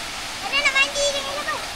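Water rushes steadily over a small waterfall below a dam, a constant broadband wash running under a voice talking nearby.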